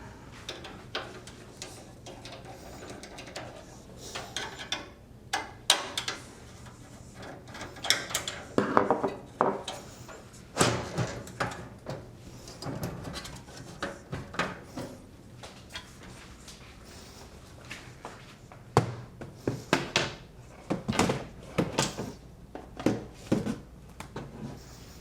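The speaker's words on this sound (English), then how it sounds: "It looks like there's some extra panel pieces that need to be removed just to get it taken" Extra panel pieces are pried and pulled off a desktop PC case, giving a string of sharp plastic clicks, snaps and rattling knocks at irregular intervals, close up and fairly quiet, with no talking.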